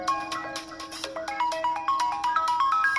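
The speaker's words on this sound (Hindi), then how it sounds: "और अब फोन कर रही है।" A phone rings with an incoming call, a bright repeating melodic ringtone of quick stepped notes playing continuously and clearly at moderate loudness.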